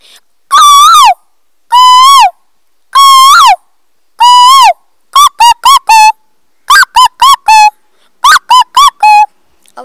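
A voice imitates the call of a koel cuckoo, first as four separate drawn-out whistled notes, then as quick clusters of shorter repeated notes, loud, close and clear against silence.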